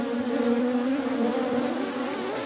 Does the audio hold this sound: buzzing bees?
yes